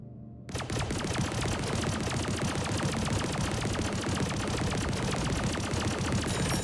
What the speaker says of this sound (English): As you can see, we fired significantly faster, but overheated faster as well.